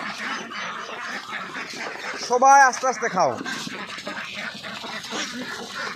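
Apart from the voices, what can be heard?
ducks quacking while feeding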